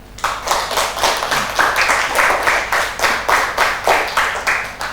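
Students clapping in a classroom, a steady run of hand claps that swells and eases in waves across the whole stretch, fairly close and loud, with no talking over it.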